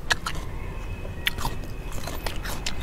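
Teeth bite into a seedless queen guava, giving a few crisp, sharp crunches spaced over a couple of seconds against a low background hiss.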